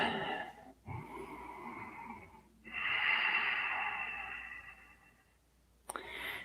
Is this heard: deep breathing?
yes